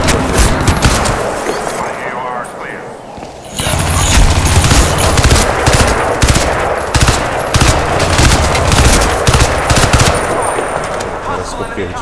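Rapid machine-gun fire and bursts of gunshots from the shooter game Crysis 2, loud and dense, starting after a brief quieter lull and continuing in sustained volleys with occasional booms.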